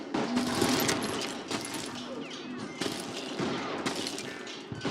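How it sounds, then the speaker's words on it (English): Gunfire in the Wild West shooter Call of Juarez Gunslinger, scattered sharp shots and short volleys over a busy game soundscape, with shouted voices between them. "I heard the shots and I knew I had to move fast"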